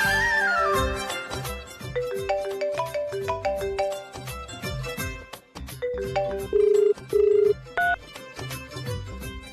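A telephone rings on an outgoing call to a grandmother in a Telugu TV serial scene: a melodic ringtone-like sequence of tones, with a few steady repeated beeps near the end, fairly loud and with no talking.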